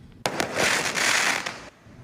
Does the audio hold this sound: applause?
no